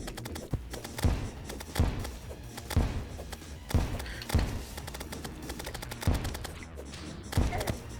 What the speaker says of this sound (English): Excellent spot to bomb. Oh, I am bombing myself.